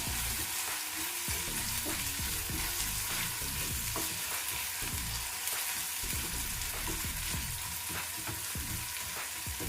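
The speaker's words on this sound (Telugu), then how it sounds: "ఇదంతా ఇలా ఒకసారి కలిపేసుకుందాము" Gongura rice being tossed with salt in a hot pan for pulihora, a continuous close scraping and stirring over a soft sizzle, with repeated rustling strokes and no speech.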